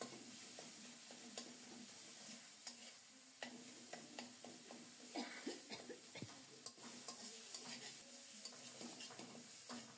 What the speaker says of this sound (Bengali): খুব ভালো করে মশলাটা কষিয়ে নিয়েছি